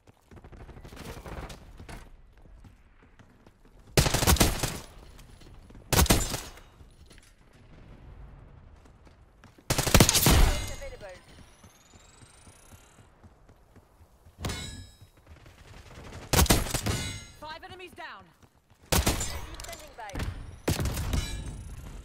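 C9 SMG gunfire in Black Ops 6, several short loud automatic bursts spaced across the clip with clanks and game effects between them, under occasional voices.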